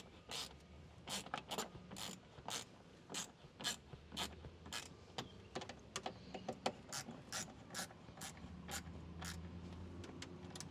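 Hose clamps on a K&N NextGen cold air intake are tightened with a ratcheting tool, giving a series of quick, close clicks in short bursts with brief pauses between them, faint and without talk.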